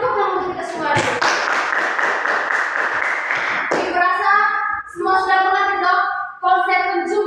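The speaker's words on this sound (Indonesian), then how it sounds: "Ya tepuk tangan untuk kita semua." A first-grade elementary class claps together during a mathematics lesson, a dense patter of hands lasting about three seconds before a voice resumes talking.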